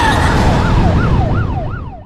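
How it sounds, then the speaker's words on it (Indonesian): An ambulance siren wails loud and close as it arrives at the Haesung hospital. Its pitch sweeps up and down in repeated cycles over the hum of road traffic. "Di rumah sakit Haesung, ambulans datang membawa pasien luka tembak."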